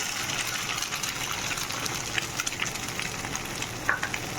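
Egg cracked into a hot pan with salt and turmeric sizzles and crackles continuously at close range, with small sharp pops and stirring scrapes near the end.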